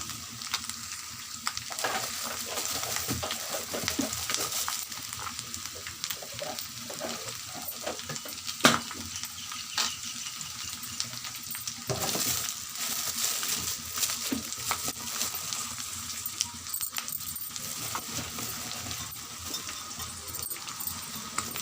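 Ginger garlic paste with chili powder fries in a pan, a continuous soft sizzle broken by frequent scraping and clinking stirs of a spoon, close and steady throughout.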